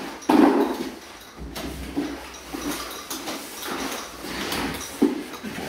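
A wooden door is flipped over during installation, giving a loud initial bump and then irregular scraping, knocking and shuffling thuds of the heavy slab being handled nearby.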